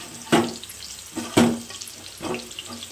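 Onions tipped into hot oil for a Telangana fish curry, three loud hissing sizzle bursts each fading into a crackling fry, close and with no voices.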